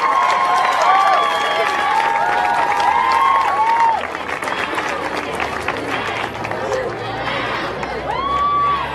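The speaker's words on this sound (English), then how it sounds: "a warm round of applause for our governor candidates." A crowd at a student rally against gun violence at the Iowa Capitol applauds governor candidates, lively outdoor clapping and cheering with whoops and shouts, loud at first, dipping, then rising again.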